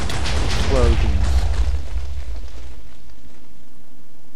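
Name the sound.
explosions in Minecraft bomber mini-game (video game)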